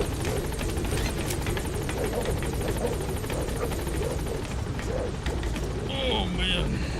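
The Pequod helicopter in Metal Gear Solid V thrums with a steady, loud rotor chop throughout, a dense continuous roar with a few higher electronic tones near the end.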